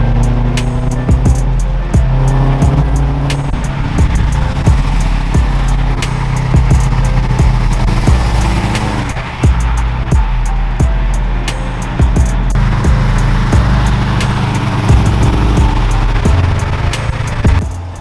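Steady road and engine roar from inside a 2002 Subaru Impreza WRX bugeye cruising on the highway, loud and continuous with occasional thumps from the road surface.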